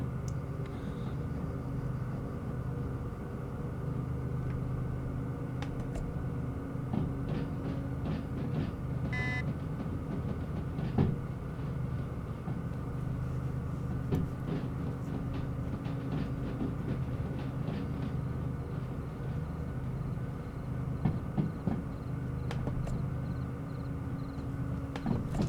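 A train moves along the track in Derail Valley, a continuous near rumble with light rhythmic clicks and occasional metallic ticks and squeaks over the long run.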